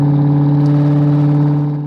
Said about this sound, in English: and then we'll do a little downshift